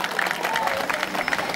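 Applause from an outdoor crowd at a marathon prize ceremony at Chittorgarh Fort, a dense steady patter of clapping with voices mixed in, lasting the whole moment.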